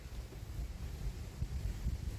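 Wind blows outdoors as a low, soft, continuous rumble with gentle gusts, faint and steady with no voices.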